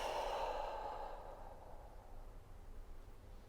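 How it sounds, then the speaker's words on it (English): A long, soft exhale through the nose or mouth during yoga breathing, a steady breathy rush that fades away over a few seconds into near silence. "A long breath out."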